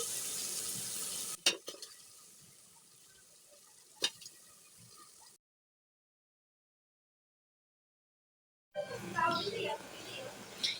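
Polao rice tipped into fried spice paste in a cooking pot, with a steady sizzle, a couple of sharp scraping clatters, then an abrupt stretch of silence before the frying hiss returns.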